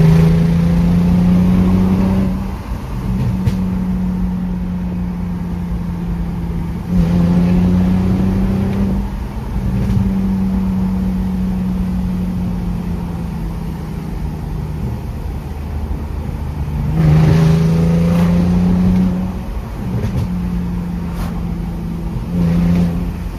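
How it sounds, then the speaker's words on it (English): A right-hand-drive BMW E46 launches on launch control, its engine rising in repeated revving surges that climb, drop and climb again, loud and close throughout with no talking. "We're up to 10, so let's hit it one time. That's that launch control."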